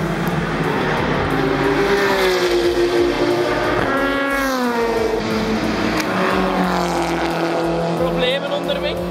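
Race cars at the 24 Hours of Zolder endurance race, engines droning loudly and continuously from the trackside, with pitch sweeps as cars pass, heard under crowd and voices.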